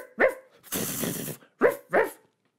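A dog gives a few sharp, close barks and a longer rough growling bark while it digs frantically at one spot in a garden, with brief silences between the barks.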